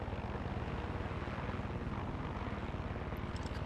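Helicopter in flight in Far Cry 6, a steady close rotor thump with a continuous engine roar, loud and unbroken with no voices.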